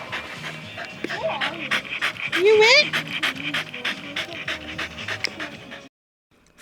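A small dog panting quickly after swimming in the pool, rapid close breaths with a brief whimpering whine in the middle, while a person talks over it.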